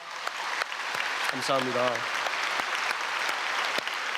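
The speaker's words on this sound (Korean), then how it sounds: "우리 오늘 기도한 학생들 박수로 축복하겠습니다." A church congregation applauds students who prayed, giving steady, close crowd clapping throughout while someone briefly speaks over it.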